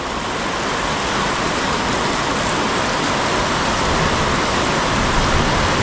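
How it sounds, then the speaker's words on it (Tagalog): Steady, dense rainfall hisses evenly throughout, a constant wash of drops on surfaces with no voices. "So ayan mga sangga, maulan na naman."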